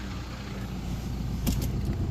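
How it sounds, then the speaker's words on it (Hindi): A safari vehicle approaches on a jungle road in Bandhavgarh National Park: a steady, distant low engine rumble that swells slightly, with a brief rattle near the end. "आ रही है गाड़ी, आ रही है एक।"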